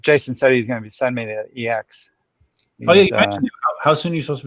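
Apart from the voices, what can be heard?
None of the usual background noises is heard.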